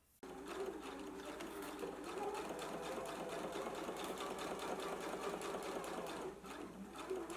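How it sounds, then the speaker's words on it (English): A sewing machine stitches a pocket onto a garment, starting abruptly and whirring in one steady close run for several seconds before easing at the end, with no voices. "now we can go to the sewing machine and we can stitch really close to the sides as well as the lower edge of our pocket"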